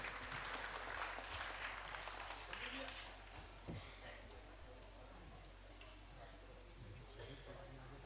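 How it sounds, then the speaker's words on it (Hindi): Applause from an event audience welcoming a guest at a foundation day function in a Jabalpur hall, a dense, fairly loud clatter of clapping for about three seconds that then thins into scattered, quieter claps with some background murmur. "जोरदार तालियों से प्राणेश भाई का स्वागत कीजिए।"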